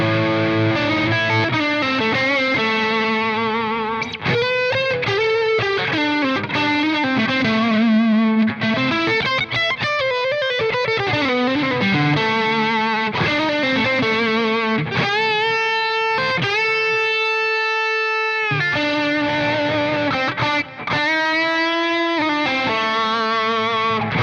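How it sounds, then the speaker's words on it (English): A Fender Stratocaster played through its neck single-coil pickup with full distortion rings out in a continuous, loud run of sustained notes and fast solo-style phrases. "I've not tried the full distortion on the neck here, just for some kind of solo-y bits."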